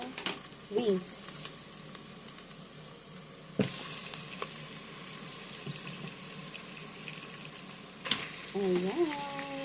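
Chicken wings go into a pan and sizzle softly under low kitchen noise, with scattered utensil clacks and a couple of louder knocks. A few faint voices are heard between the sounds.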